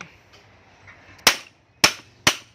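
During a machine repair, a power tool drives bolts out with three sharp, loud metallic bangs, close by and a fraction of a second apart, each cracking sharply and dying away quickly over a quiet background.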